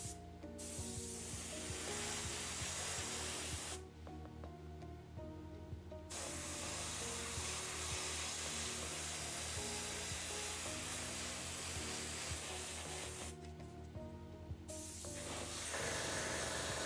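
An airbrush sprays paint in a long, steady hiss that cuts out briefly twice and then resumes, close and continuous, with no talking.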